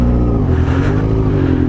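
A tuned Yamaha XJ6 motorcycle idling and revving on a forest trail, a loud, close, throaty engine rumble that rises and falls slightly, heard alone.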